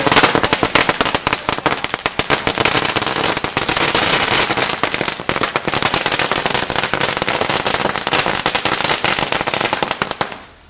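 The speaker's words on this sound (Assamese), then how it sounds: "এই শিক্ষানুষ্ঠানখনৰ চৌহদত ফটকা ফুটাই শিক্ষাগুৰুসকলে আনন্দ উল্লাস কৰা পৰিলক্ষিত হৈছে" Dense, rapid crackle of firecrackers bursting nonstop at a school celebration ground after exam results, loud and continuous bangs overlapping for about ten seconds before cutting off.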